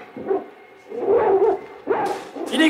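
The Hound of the Baskervilles barks as a radio drama effect, a series of close, loud barks and yelps in uneven rhythm, some with a whining edge.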